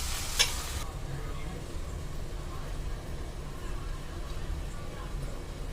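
Onion sautéing in a pan for kadai paneer gives a low, steady sizzle with light stirring scrapes, after a short brighter burst at the start.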